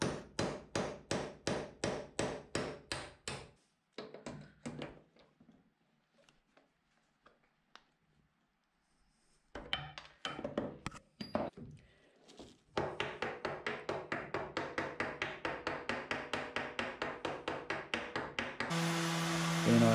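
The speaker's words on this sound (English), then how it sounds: "I drilled for and drove 6 copper nails vertically through the scarf" Hammer driving copper nails through a wooden boat scarf, rapid series of sharp close taps in quick bursts, a pause with a few scattered knocks, then a long steady run of even hammer blows.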